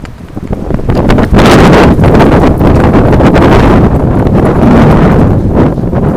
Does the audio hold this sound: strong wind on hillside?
yes